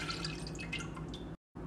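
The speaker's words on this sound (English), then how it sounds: "For your brine, add 1 cup of red wine vinegar" Red wine vinegar pours into mason jars of sliced onions for a pickling brine, a steady close liquid trickle with small splashy drips, ending in a brief cut to silence.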